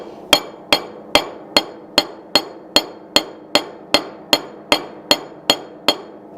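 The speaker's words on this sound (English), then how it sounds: "I'm going to use the raising or bordering hammer" A raising hammer strikes sheet metal held on a steel block, a steady series of about fourteen bright, ringing metallic blows evenly spaced in a brisk rhythm, close and clear with no talking.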